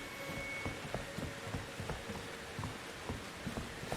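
Steady rain pours in the horror game Outlast II, the blood rain falling as a dense, continuous hiss with scattered sharper drop impacts throughout, no voices over it.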